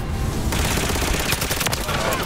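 Gunfire in a Call of Duty video game, a heavy volley of shots starting abruptly after a brief quieter stretch, with rapid cracks layered over loud rumbling battle noise.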